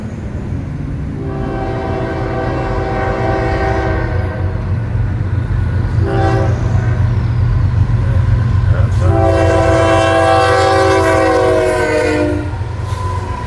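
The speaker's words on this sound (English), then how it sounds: "That's a horn, so when they hold a horn like that all the way through the intersection" A Florida East Coast freight train sounds its horn in long held chords at night near a grade crossing, three blasts rising over the steady low rumble of the passing train, loud and close.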